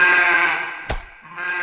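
A male goat bleats loudly in pain, one long wavering cry up close, followed by a sharp thump and a fainter trailing call.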